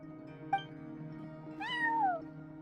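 A cat in the video game Genshin Impact gives a short chirp followed by a longer, clear, falling meow, heard up close against a faint steady background tone.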